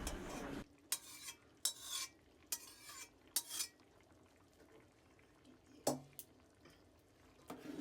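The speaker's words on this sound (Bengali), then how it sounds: "এবার ওই হাঁড়ির মধ্যে মশলাটাকে দিয়ে দিচ্ছি" A spoon scrapes and stirs spices in a cooking pot of water for khichuri, in several short bursts separated by quiet pauses, with a small clink near the end.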